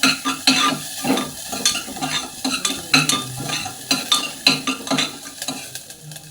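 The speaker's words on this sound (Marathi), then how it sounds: "कांदा परतून झालाय" Chopped onion sautéing in a pan, close-up with repeated rhythmic scrapes and clinks of a spatula stirring over a light sizzle, with no one talking.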